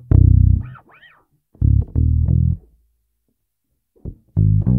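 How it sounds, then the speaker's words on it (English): A five-string bass plays a bass line of short, punchy low note groups separated by brief silences, close and loud, with a distorted, effected edge and no talk. "This is a perfect bass line to learn if you're new to the five-string bass."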